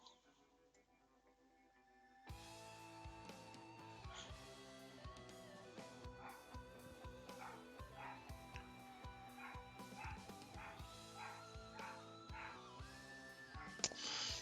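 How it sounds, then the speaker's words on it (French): A small dog barks repeatedly in quick, high yips, some whimpering between them, fairly close and fairly quiet. "petit chien qui aboie."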